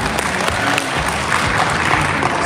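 Audience applause at an Indonesian business seminar, a steady dense clapping wash from a large crowd filling the whole stretch at even loudness.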